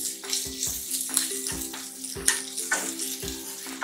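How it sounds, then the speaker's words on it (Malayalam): Onions sizzle in a pan as they are stirred with half a teaspoon of turmeric powder for beetroot kurma, with a steady close fry punctuated by rhythmic scraping strokes of a spoon. "ഒന്ന് മിക്സ് ചെയ്ത് കൊടുക്കാം."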